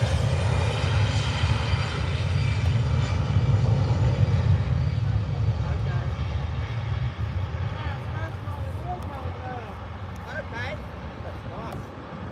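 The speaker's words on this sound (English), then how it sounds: "Vueling A320 off over to Barcelona." Vueling Airbus A320 taking off from Birmingham airport, a loud sustained jet engine roar that slowly fades as the aircraft climbs away, with people talking over it.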